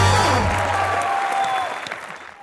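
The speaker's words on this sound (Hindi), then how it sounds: "राजा के लिए जोरदार तालियां" A studio audience bursts into loud, dense clapping that fades out over a couple of seconds.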